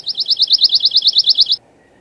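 Pine warbler song from a recording: a fast, even trill of around sixteen bright, identical notes lasting about a second and a half, near and loud, ending abruptly with quiet after.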